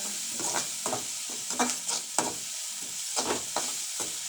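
Egg rice frying in a pan while being stirred, with a steady sizzle under repeated scraping strokes of a spatula at an uneven rhythm, close and moderately loud.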